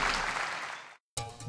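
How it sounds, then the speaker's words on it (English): An audience at the presentation of the first Haute Route cycling event bursts into applause, a dense clapping wash that cuts off briefly and then resumes. "vous pouvez applaudir déjà, s'il vous plaît"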